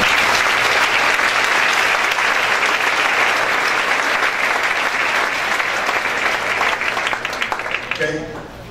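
A congregation applauds a speaker during a church service, a dense, steady wash of many hands clapping that holds for several seconds before thinning out and fading at the end.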